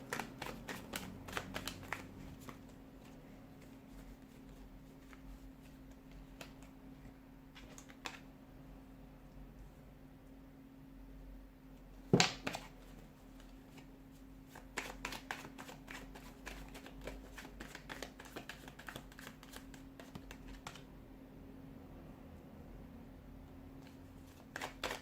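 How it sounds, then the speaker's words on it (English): A deck of tarot cards is shuffled in repeated bursts of crisp riffling flutters separated by quiet pauses, close and fairly soft, with one sharper snap near the middle. "we'll give the cards a shuffle and let's begin"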